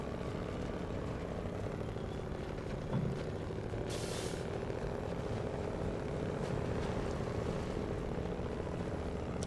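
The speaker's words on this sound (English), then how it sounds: "Have to say, the engine sound on this guy, very satisfying." A log truck in a Scandinavian driving game pulls a trailer, its engine droning steadily throughout with a brief hissing burst partway through.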